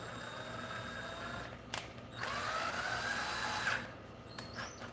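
A quiet high-pitched whine of a small drill spinning up an RC car's bent slipper shaft, with a rising tone midway and a few clicks and taps.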